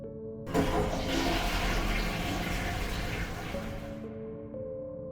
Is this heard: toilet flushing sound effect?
yes